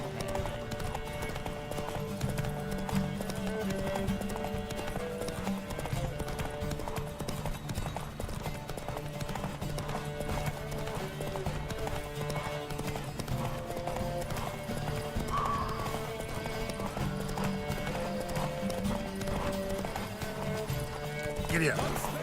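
A horse gallops steadily at a race start in The Witcher 3, its rapid clip-clop hoofbeats continuous and close for the whole stretch, with occasional neighs and a voice talking over the top.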